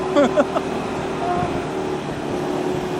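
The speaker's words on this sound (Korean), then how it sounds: "오토바이야 힘내줘 힘내줘" A motorbike engine drones steadily at full throttle as it labours up a steep hill road toward a lighthouse in Vung Tau, Vietnam, loud and continuous, with a voice speaking briefly over it at the start.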